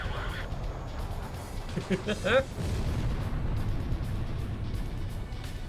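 An enemy jet blows up after being shot down in the Ace Combat Zero flight game: a short, muffled boom bursts out briefly over a constant roar of jet engines and combat noise.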